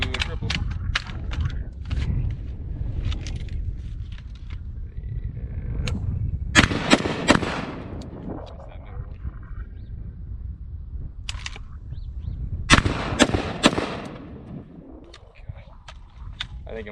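Remington 870 shotgun fitted with Magpul furniture, fired outdoors at a range: two sharp, loud blasts several seconds apart stand out against steady background noise, with a few fainter clicks and bumps around them.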